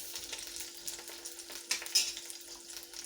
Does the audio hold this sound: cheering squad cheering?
no